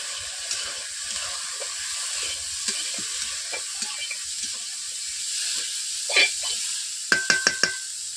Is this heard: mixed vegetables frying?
yes